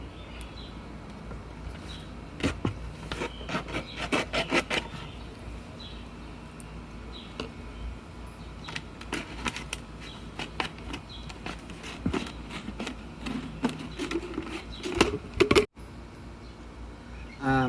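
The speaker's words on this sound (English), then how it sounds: "we're just going to cut straight through that" Scissors snip and crunch through a plastic drink bottle, cutting off its top to make a trap for spotted lanternflies, with a run of sharp crackling clicks and rustles at close range and no talking.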